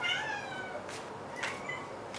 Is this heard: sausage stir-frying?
no